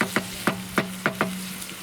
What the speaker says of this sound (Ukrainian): у нас должен весь фарш бути приготовлений. Так що ми смажемо